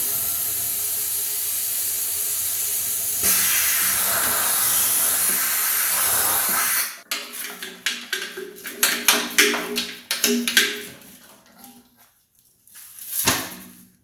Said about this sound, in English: I'm going to blow this tank out